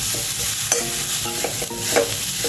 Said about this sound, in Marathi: मी कढई तापत ठेवली होती तिथे मी हा खोबऱ्याचा किस घातला आहे